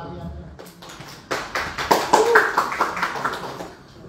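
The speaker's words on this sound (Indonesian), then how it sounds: "Tepuk tangan dong teman-teman." Scattered clapping from a small audience at a music video launch event, a run of sharp hand claps rising under lively talking voices.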